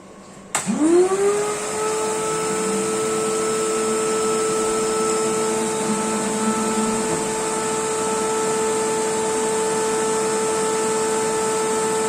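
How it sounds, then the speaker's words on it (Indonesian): A vacuum cleaner switches on with a rising whine and then runs at a steady, loud drone that holds unchanged for several seconds. "Kita nyalakan pertama sebuah penyedot debu."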